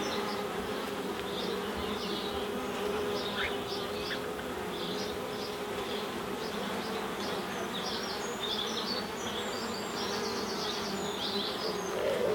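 Honeybees swarm around an open nucleus hive in the sun, a dense steady buzz of many insects close by that holds at an even level throughout, with no voices over it.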